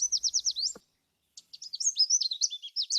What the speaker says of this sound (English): Hopefully you can hear that Canada warbler song now and not hear it as chips.